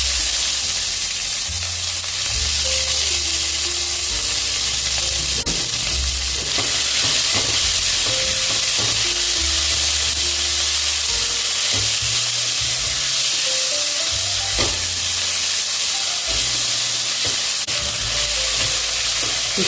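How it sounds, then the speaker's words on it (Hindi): Onions sizzle and fry loudly in a pan with black pepper and asafoetida for a dhaba-style methi paneer veg biryani, a continuous close hiss broken by the scrape and clatter of repeated stirring. "इसको सुनहरा होने तक भून लेंगे प्याज को।"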